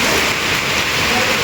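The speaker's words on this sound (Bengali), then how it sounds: "বৃষ্টির আওয়াজটা শুনে নিশ্চয়ই তোমরা বুঝতে পারছো কি জোরে বৃষ্টি হচ্ছে।" Heavy rain pours down steadily, a dense continuous hiss that stays loud and even throughout with no pauses, at a time when the power is out.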